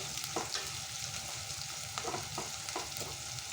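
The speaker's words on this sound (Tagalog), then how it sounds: "Tapos natin gisa yung sibuyas at saka bawang" Onion and garlic sautéing in a pan for a chicken masala, with bay leaf and pepper in the oil: a steady close sizzle with a few stirring scrapes and knocks, and no voices.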